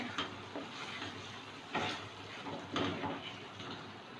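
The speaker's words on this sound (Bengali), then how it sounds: "এবার আলুগুলো দিয়ে দেব একটু কষিয়ে নেব এক মিনিট" Potatoes frying with spices in a pan for ritha fish curry, a soft continuous sizzle with a few brief stirring scrapes, close and fairly quiet, no voices.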